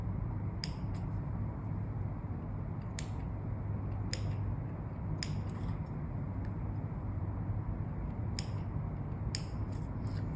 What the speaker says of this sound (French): Vous pouvez également recouper aussi un peu les marges de couture